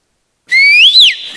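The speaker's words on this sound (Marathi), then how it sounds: "दी शिट्टी मार" A person on a comedy stage show gives a single loud, clear whistle that holds steady, swoops up and back down, then tails off, heard alone and close.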